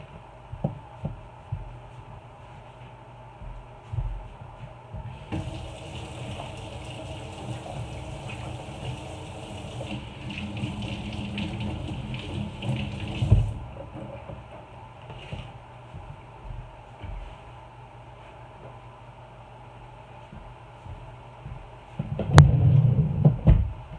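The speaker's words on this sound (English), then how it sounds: "let me go wash my hands." Water running from a kitchen tap for hand washing, a steady gush lasting several seconds amid faint clatter and handling noises.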